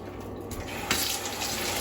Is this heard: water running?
yes